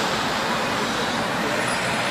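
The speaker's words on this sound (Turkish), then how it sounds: "Bütün trafik kilit şu anda. Hem geliş hem giriş." Jammed road traffic near a metrobus stop in Cevizlibağ, Istanbul, with buses and cars idling and crawling, a dense, continuous roar of engines and road noise close by, with no break and no voice over it.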